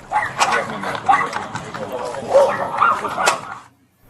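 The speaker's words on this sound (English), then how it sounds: "You heard that barking at the end." A dog barks and yips several times in short bursts, mixed with people talking nearby, before everything falls quiet.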